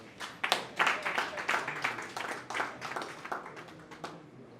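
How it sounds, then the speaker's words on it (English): Scattered clapping from a modest audience at a tribute gathering, individual claps distinct, swelling early and then thinning gradually toward a close. "Okay, a round of applause."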